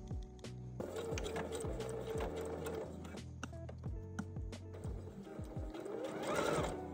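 A sewing machine stitches a cuff onto a sleeve in quick bursts of rapid mechanical clatter. Short pauses break up the runs, and the sound is close but fairly quiet.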